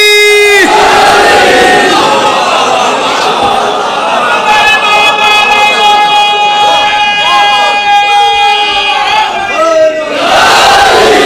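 A large crowd at a religious gathering shouts the slogan Naara-e-Haidari together in a loud, sustained, drawn-out chant that holds for several seconds before a fresh surge of voices.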